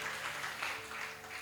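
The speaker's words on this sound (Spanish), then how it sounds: "Dale palmas de alabanza al que vive para siempre." A church congregation claps in praise, a dense, steady burst of applause that fills the whole moment, with no talk on top.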